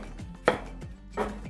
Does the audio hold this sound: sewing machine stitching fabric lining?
no